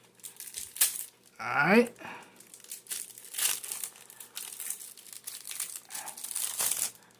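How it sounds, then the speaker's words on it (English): Plastic packaging around a carbon fiber phone case is torn open up close, a sharp crinkling rip followed by scattered rustles and handling noises, with someone speaking briefly. "Let me rip this open here."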